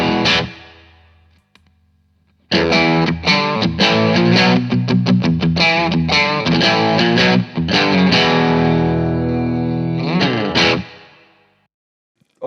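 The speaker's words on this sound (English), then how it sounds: "So this is the distortion." An electric guitar runs through an MXR and Analog Man overdrive pedal set to distortion mode, tone knob centered, playing loud, dense strummed chords and riffs that ring out and decay, with no talking.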